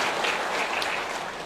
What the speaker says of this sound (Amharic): አንዴ ሞቅ ያለ ጭብጨባ እንድታረጉላቸውና እንድትናስባቸው